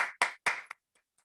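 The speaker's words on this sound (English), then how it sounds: "round of applause for all our beautiful contestants" A round of applause for contestants at a Toastmasters club meeting: a few short bursts of clapping from a small group, fading into a couple of faint isolated claps.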